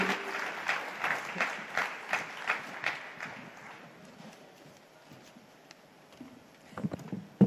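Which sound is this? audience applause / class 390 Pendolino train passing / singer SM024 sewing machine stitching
audience applause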